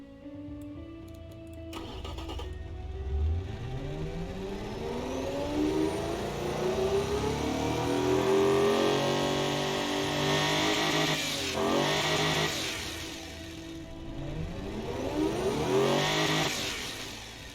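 A V12 engine in a luxury car built in Automation and driven in BeamNG.Drive starts and revs repeatedly, pitch sweeping up and falling back in smooth waves, loud and close with no talking.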